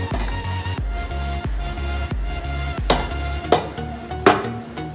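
A chicken and vegetable cutlet mixture is stirred in a pan, with a steady sizzle and several sharp scrapes and knocks of the spoon against the pan. The sounds are close and there is no talk.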